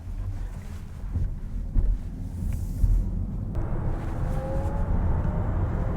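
A VW ID.4 AWD electric car accelerates in sport mode, a low road and wind rumble from inside the cabin that builds steadily with a faint rising electric whine.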